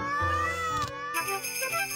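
Cat meows in the PC game Super Granny, a couple of stretched, tonal cries in quick succession, loud and close with a faint electronic backdrop.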